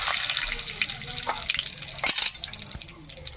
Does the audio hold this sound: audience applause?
no